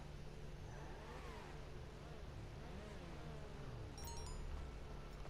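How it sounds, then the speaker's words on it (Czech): A Ferrari Formula 1 car in an F1 video game revs steadily, its engine note rising and falling in repeated sweeps. It is moderately quiet and heard alone, with a few brief high electronic blips near the end. "Tak další semka pojede Kuba ve Ferrari."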